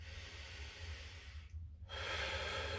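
A person takes slow, deep breaths while holding a bicep stretch, airy close inhales and exhales with a brief pause before a stronger breath, no speech.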